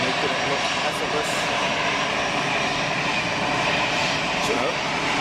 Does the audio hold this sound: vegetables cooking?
no